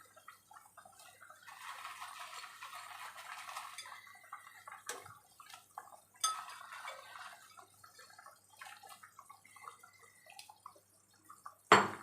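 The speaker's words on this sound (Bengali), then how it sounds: "এবার আমি ডালের বড়াগুলোকে একে একে দিয়ে দেব।" Lentil fritters dropped one by one into a simmering vegetable curry give faint, scattered soft plops and splashes over a low bubbling, ending with one sharper knock.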